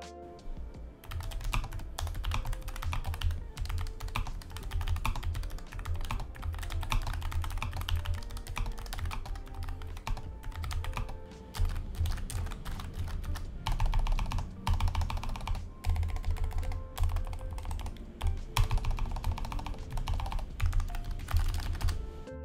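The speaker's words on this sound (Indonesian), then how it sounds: "untuk pengalaman ngetik ataupun gamingnya ini sih kurang lebih sama seperti G813 namun menggunakan brown switches" Steady, brisk typing on a Logitech G515 low-profile keyboard with brown switches, a dense run of close, crisp key clicks with brief pauses, no voices.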